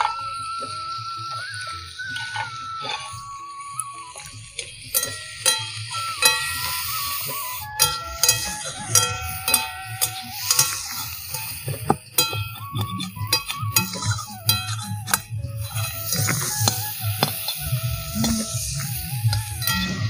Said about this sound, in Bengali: দেখো মা নেড়েচেড়ে ভালো করে ভেজে নিচ্ছে।